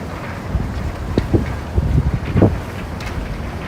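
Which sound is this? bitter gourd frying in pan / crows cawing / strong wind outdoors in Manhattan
strong wind outdoors in Manhattan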